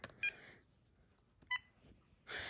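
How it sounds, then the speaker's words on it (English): Two short electronic beeps from the keypad buttons of a Vtech cordless phone, separated by about a second of near silence, followed by a burst of broadband noise at the end. "So first we're going to do the button beeps."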